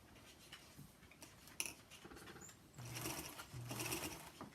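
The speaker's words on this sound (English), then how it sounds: "I'm going to run a seam down just like 3 or 4 threads off of my fold first" A Featherweight sewing machine runs a seam a few threads from a fabric fold, its motor whirring at low volume and rising into two longer bursts of stitching toward the end, with some light clicks and handling in between.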